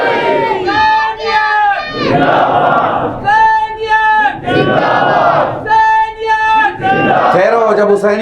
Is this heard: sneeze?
no